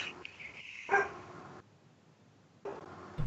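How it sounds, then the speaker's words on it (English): Dogs bark in a video game, two or three short, clear barks and yips near the start, then a quiet gap before another bark returns at the end. "Just random dogs. Dog sounds. Random dog sounds."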